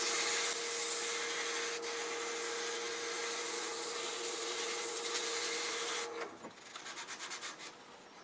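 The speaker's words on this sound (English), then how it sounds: "Now I'm just going to sand this up with some 400 grit" A woodturning sanded with 400 grit paper as it spins on the lathe, a steady loud abrasive hiss over the motor's whine that stops abruptly near the end, leaving faint rhythmic rubbing.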